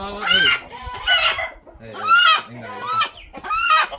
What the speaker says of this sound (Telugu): ఇదో ఇంకా ఈ కోడిని అయితే పట్టుకోవాలి